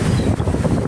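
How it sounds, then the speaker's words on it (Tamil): Strong wind buffets the microphone at a seaside viewpoint in Kanyakumari, a continuous low roaring rush with gusting swells throughout, loud and close, with no talk. "காற்று நல்லா செம்மையாக அடிச்சுது."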